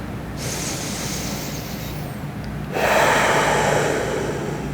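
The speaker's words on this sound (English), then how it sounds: "One more breath." Deep breath taken during a vinyasa yoga flow: a long, audible inhale that swells into a louder, breathy exhale near the mic, with no talking.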